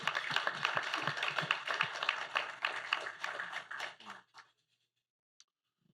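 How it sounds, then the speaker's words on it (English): Applause and clapping from the audience at the 2nd Annual CABSE conference session: dense, steady clapping for about four seconds, then tapering quickly into near silence. "Hey, clap it up for that, y'all."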